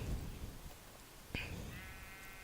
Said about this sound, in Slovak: a máme tu aj ovce hneď, strašne veľa